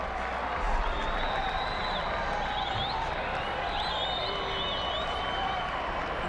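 A stadium crowd at an Indiana college football game applauding, with broad, steady clapping and crowd noise spread across a large space. Whistles and a murmur of voices run underneath.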